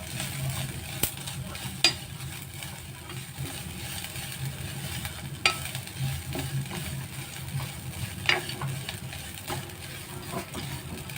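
Ingredients for bitter gourd bharit roast in a kadhai with a soft, steady sizzle, marked by occasional sharp taps and scrapes of a spoon against the pan.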